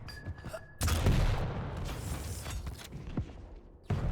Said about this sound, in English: Wow, he's even styling with those rocket jumps.